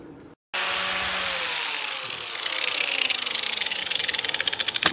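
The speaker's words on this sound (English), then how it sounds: "this is going to require me to grind this down" Power grinder cutting down metal on a car's radiator core support, a loud steady whine that runs continuously after a short gap, roughening and pulsing toward the end as the disc bites into the steel.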